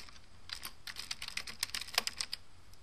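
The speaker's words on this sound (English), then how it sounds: "just type in whatever you want" Someone types on a computer keyboard, a short run of quiet, close key clicks at an irregular pace. No one talks.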